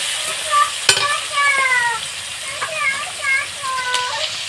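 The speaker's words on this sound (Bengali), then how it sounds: "দেওয়ার পরে আমি এখানে কিছুটা পেঁয়াজ কুচি দিয়ে দিলাম।" Chopped onion fries in oil along with dried chillies, giving a steady close sizzle and a few stirring knocks, while faint children's voices sound in the background.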